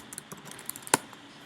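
A computer keyboard is typed on with a few quiet, scattered keystrokes and one sharper, louder clack near the middle, in a quiet room.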